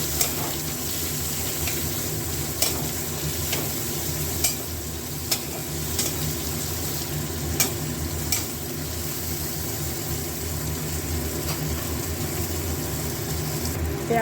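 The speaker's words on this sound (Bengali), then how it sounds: "পেঁয়াজগুলো একটু ভালো করে ভাজা ভাজা করবো।" Onions frying in hot oil already used for frying fish, a steady close sizzle with occasional sharp crackles and spatters carrying on unbroken from start to end.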